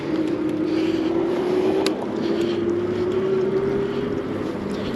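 An e-bike's rear hub motor on a $600 Tonnerrey T8, spinning freely with the back tire lifted, gives a steady whirring hum that rises in pitch, falls briefly and climbs again, close and continuous with no talk.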